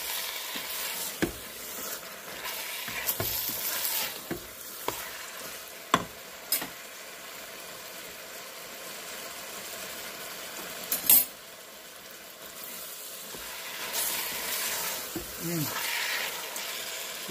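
Homemade chili being stirred in a sizzling pot after Worcestershire sauce is added, with soft scraping stir strokes and a faint steady sizzle at moderate distance, a few sharper clinks of a utensil against the pot.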